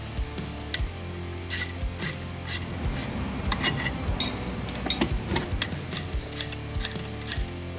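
Clutch bolts being worked out of an RVS clutch kit with an Allen wrench, giving close scraping, rasping and clicking metal noises over a low mechanical hum.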